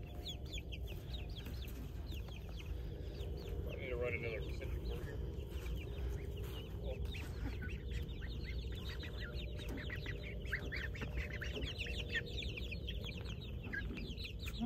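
Chickens on a farm cluck steadily and close by while hens are moved into a pen during herding by an Australian Shepherd, with people talking over the birds throughout.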